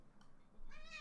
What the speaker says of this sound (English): She really likes to meow. Very vocal cat.